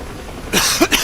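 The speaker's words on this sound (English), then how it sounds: "Excuse the coughing." A couple of short, sharp coughs, close and loud, after a moment of near silence.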